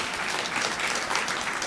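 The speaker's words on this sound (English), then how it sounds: "Let's give all of our co-sponsors a round of applause." Audience at a university event applauding its co-sponsors, a short, steady burst of dense clapping heard throughout, moderately loud.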